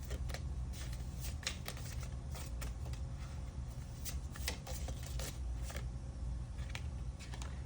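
Tarot cards are shuffled and drawn in a quiet room, a series of soft, crisp card flicks and slaps close by over a low steady hum.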